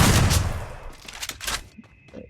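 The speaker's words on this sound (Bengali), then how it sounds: "সামনে রাশ করে দিয়েছেন শটগান দিয়ে। নারুটো পারবেন কি ভুইয়া, মারতে পারবেন কি নারুটো? এই MP40 চাতাকিয়ে গিয়েছেন নারুটো। আরেকটা শট, লাস্ট ওয়ান শট" Shotgun and MP40 gunfire in a video game: a loud blast opens, then a string of rapid, sharper shots and pops fading toward the end.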